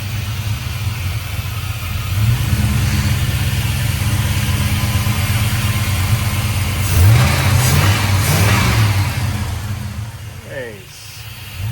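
A 1977 K10 truck fitted with a swapped LS engine idles steadily at close range, its low rumble continuous throughout while people talk over it.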